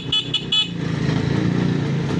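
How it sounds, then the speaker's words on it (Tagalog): A motorcycle whose battery keeps running low gives three short, close toots of its horn, followed by the steady low putter of its idling engine. "tapos busina"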